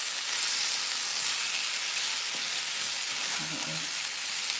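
A potato and mixed vegetable dish with a squeeze of lime juice being stirred in a hot pan, heard as a steady, close sizzle and hiss with a few faint scraping stirs, no talk.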